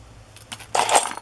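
Small metal embellishment pieces bought at flea markets clink and jingle together close by, with a couple of light taps followed by a brighter rattling cluster as they are handled, no speech.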